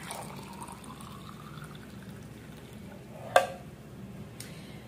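An herbal drink is poured into a glass, a soft steady liquid trickle with a brief splash or clink near the end, fairly quiet and without talk.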